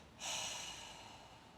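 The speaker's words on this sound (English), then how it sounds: "Notice it's a fuller, longer breath." One deep, full breath during a double breathing kriya for yoga teacher training: a single airy rush that starts abruptly and slowly tapers, close and soft, with no talking.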